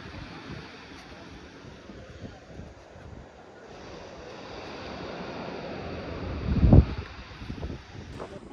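Wind and flowing water at a riverside near Villa Carlos Paz, a steady broad rush with gusts buffeting the microphone and one loud thump near the end.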